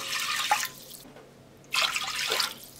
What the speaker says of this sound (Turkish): Üzerine 3 su bardağı su ilave ediyorum.